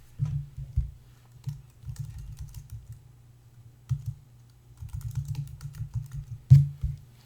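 Computer keyboard keys clicking in quick, uneven bursts close by, with short pauses between runs of typing.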